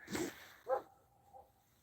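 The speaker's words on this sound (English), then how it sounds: "I don't know why they're barking." Dogs barking in a quiet town in the early morning, with two short barks at moderate distance followed by a fainter third bark, and nothing else heard between them.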